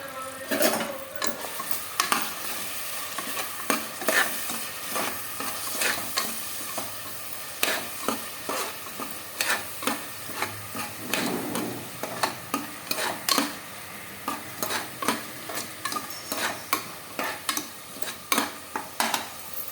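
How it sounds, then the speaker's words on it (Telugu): Coarsely ground onions, green chillies and cumin fry in oil inside a pressure cooker, a constant sizzle punctuated by many quick, rhythmic scraping stirs against the metal, close-up and with no voices. "కుక్కర్లో ఆయిల్ వేసి కాగాక కచ్చా పచ్చాగా గ్రైండ్ చేసుకున్న ఆనియన్స్, పచ్చిమిర్చి, జీలకర్ర వేసి బాగా ఫ్రై చేసుకోవాలి."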